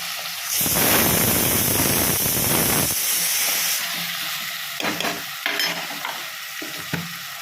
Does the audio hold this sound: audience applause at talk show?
no